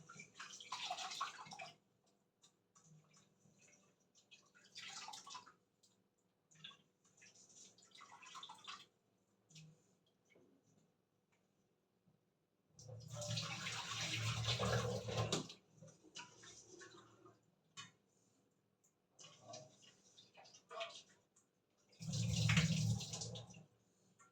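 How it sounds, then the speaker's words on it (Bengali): Soaked flattened rice is strained in a kitchen as water sloshes and pours out in several separate bursts, with a few louder gushes and faint drips between them. "এই যে চিড়েটাকে ছেঁকে নিলাম, একদম ঝরঝরে।"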